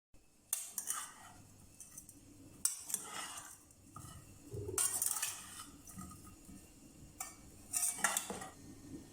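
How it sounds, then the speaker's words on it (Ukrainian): Metal utensil scraping and clinking against a bowl while stirring seasoned potatoes, in bursts with short pauses, close and fairly quiet, no talking. "І перемішуємо все до однорідності"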